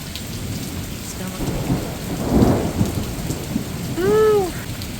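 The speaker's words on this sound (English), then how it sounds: "All the lightning and thunder." Steady rain falls through an outdoor thunderstorm, with a deep roll of thunder swelling near the middle and a later rumble over the constant patter.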